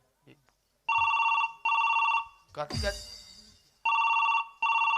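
A telephone rings in repeated electronic bursts, loud and close, broken by a short voice and a rustling clatter in between.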